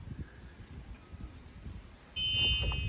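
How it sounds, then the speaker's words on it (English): A school bus alarm, on a Freightliner school bus, sounds as a steady, piercing high-pitched tone that starts abruptly about two-thirds through and holds loud to the end over low rumbling background noise. "The alarm works."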